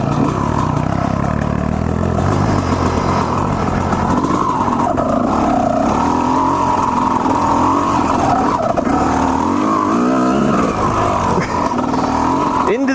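A dirt bike engine revs on an off-road trail among bushes and trees, a loud, continuous buzzing drone that rises and falls in pitch, close to the rider and unbroken throughout.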